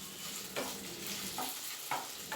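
Marinated chicken fries in white oil with a soft, steady sizzle. A few stirring scrapes and clatters break through at intervals. The sound is faint and close, with no voices.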